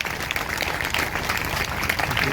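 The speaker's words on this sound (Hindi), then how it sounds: "अगर आए तो जोरदार तालियां बजाएंगे, जोर से जोर से जोर से।" Congregation at a Sunday sermon clapping loudly, a dense, steady wash of many hands filling the room for a couple of seconds with no voice over it.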